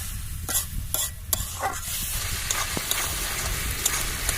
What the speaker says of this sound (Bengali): জল দিয়ে মশলাটাকে আমি সেদ্ধ করে নেবো ভালো করে